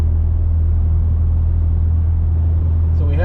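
A 2020 BMW X3 M Competition drives along a road, its cabin filled with a steady, loud low rumble of engine and tyre noise that holds constant throughout, with a brief faint sound near the end.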